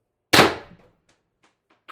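A single loud, sharp shot from an X-68 airsoft gun running a 36g CO2 cartridge and firing riot balls, with a decaying burst followed by a few faint metallic clicks and a small click at the end.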